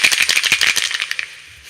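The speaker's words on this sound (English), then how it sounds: "I got my rattle, my gourd." Gourd rattle filled with corn, shaken in a quick burst of about a dozen dry, crisp rattling strokes, loud and close, then fading into silence.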